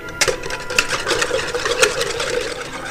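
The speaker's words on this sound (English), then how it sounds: "With an egg whisk. We'll break up the eggs a bit." Eggs being broken up with an egg whisk for pancakes, a quick rapid rattle of wire strokes against the bowl, steady and close throughout.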